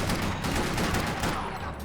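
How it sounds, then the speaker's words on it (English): Rapid bursts of gunfire from the video game Max Payne 3, a dense, loud, continuous volley of light, snappy shots with little pause between them. "the gunshots sound a bit like cap guns"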